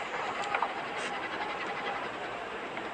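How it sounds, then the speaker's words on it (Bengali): A train rumbles and clatters past at a distance in a steady, moderate wash of noise, with a couple of faint squeaks and no talking over it. "ট্রেন একটা"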